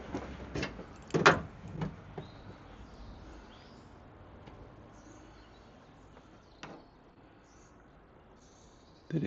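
The back door of a van under conversion is opened, giving a few sharp clunks and rattles separated by quiet stretches of faint room noise.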